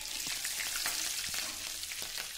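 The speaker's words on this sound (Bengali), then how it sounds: "তেল গরম হয়ে গেলে তেলের মধ্যে দিয়ে দিচ্ছি 2টো চেরা কাঁচা লঙ্কা" Slit green chillies and nigella seeds sizzling and spitting in hot mustard oil, a steady dense crackle with scattered pops throughout, close and fairly quiet, no voices.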